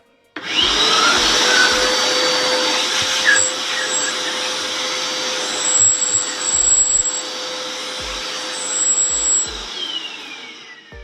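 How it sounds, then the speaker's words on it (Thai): An iMAX 1600 W vacuum cleaner switches on and roars loudly and continuously as it sucks up dust, with a steady high whine and occasional bumps and pitch shifts as the nozzle moves. "นี่นะครับถ้าท่านเห็นนะครับ ดูดฝุ่นนะครับ"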